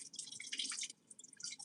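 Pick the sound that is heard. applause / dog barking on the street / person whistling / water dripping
water dripping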